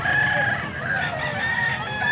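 Chickens and roosters at a poultry market in Angeles, Pampanga, with crowing and clucking from several birds packed together, loud and continuous over a busy background.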